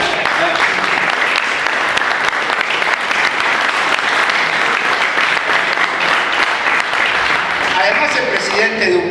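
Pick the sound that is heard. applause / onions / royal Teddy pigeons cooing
applause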